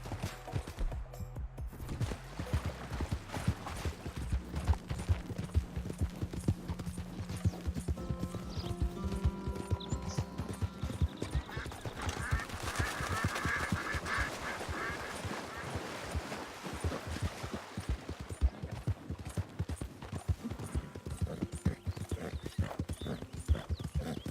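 Horse hooves clip-clop in a steady, even rhythm throughout, loud and close, with faint duck-like quacks in the background.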